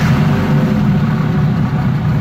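A carburetted car engine with a hesitation fault runs close and loud during an off-road drive, making a continuous low, rough rumble with no clear pauses and no talk over it.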